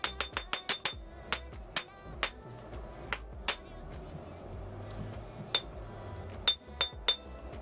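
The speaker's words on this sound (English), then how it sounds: "So I have to flatten this wire a little bit." A hammer flattens jewelry wire on a small hard surface, with a quick run of sharp metallic taps followed by scattered single strikes, close and ringing, amid quiet room noise.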